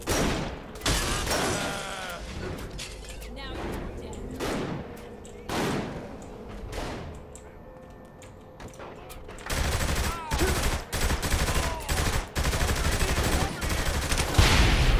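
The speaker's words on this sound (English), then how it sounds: "Shooting them probably doesn't help change their mind!" Rapid bursts of gunfire crack repeatedly in the video game Saints Row The Third Remastered, with sustained automatic fire in the second half and occasional voices mixed in.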